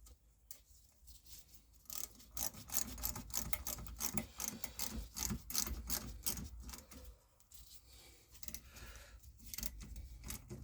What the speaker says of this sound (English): this will be a 10mm socket you'll need to tighten it up again